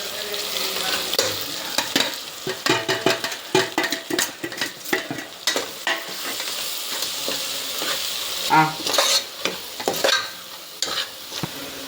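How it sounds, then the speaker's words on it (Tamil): Tomatoes and spices are stirred and sautéed in a pan, with repeated quick scraping strokes of a spoon over a constant sizzle, close and fairly loud with no talking. "தக்காளி நல்லா வதங்கியாச்சு."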